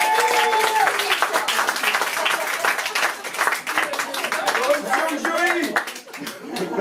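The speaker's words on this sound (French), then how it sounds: "applaudissez-vous si vous sentez" An audience applauds at a slam poetry night at L'Attrape Rêves in Antibes, with dense, sustained clapping filling the room. Crowd voices and chatter mix in throughout.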